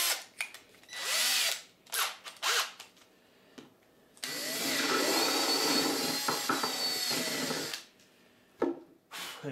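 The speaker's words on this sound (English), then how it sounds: "you can hear the drill bit just hitting that screw" A power drill whirs in short bursts while assembling a migratory beehive pallet, its bit hitting a screw, then runs in a long steady grinding stretch before stopping, with a few brief spurts after.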